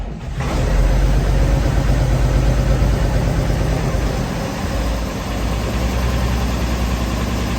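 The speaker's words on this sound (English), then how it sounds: "Over here in the 1086, a little throttle, turn the key." An International 1086 tractor's engine cranks and catches, then settles into a loud, steady, rumbling idle with a deep low-frequency throb and vibration that continues without pause.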